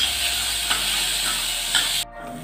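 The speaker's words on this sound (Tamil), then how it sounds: "நல்லா வதக்கிப்போம். ஸ்லோலே இருக்கட்டும் அடுப்பு." Steady, loud sizzling of onions frying in a pan over low heat for Kerala chickpea curry, with a couple of soft stirring scrapes before the hiss drops off abruptly near the end.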